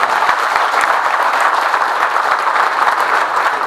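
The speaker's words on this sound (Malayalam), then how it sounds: "നമുക്കെല്ലാവർക്കും നിറഞ്ഞ കയ്യടിയോടുകൂടി" Sustained audience applause at a political ceremony, the installation of the BJP district president in Palakkad, Kerala; dense, steady clapping from a crowd fills the whole stretch without any voice over it.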